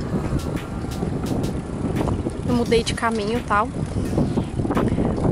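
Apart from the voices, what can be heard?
wind blowing on microphone while walking home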